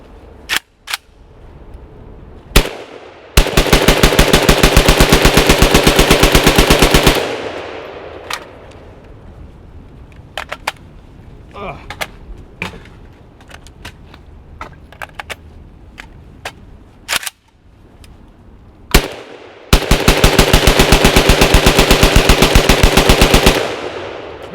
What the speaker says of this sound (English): It's not as easy to bump fire when you're holding the rifle sideways.